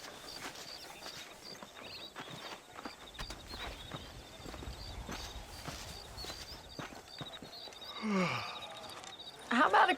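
Horse hooves clip-clop at a steady walking pace in the Red Dead Redemption western video game, layered over ambient game sound, with a voice and louder activity near the end.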